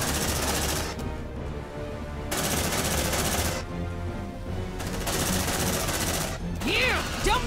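Sustained automatic gunfire at aliens in Aliens: Dark Descent, loud overlapping bursts in several long volleys separated by brief lulls, with a voice briefly calling out near the end.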